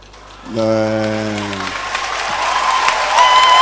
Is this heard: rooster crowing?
no